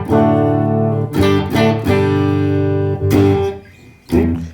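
Clean electric guitar, a Gibson LPX Limited Edition Les Paul, with a bright, glassy single-coil tone plays chords and single notes in several ringing phrases, close and fairly loud with no voices.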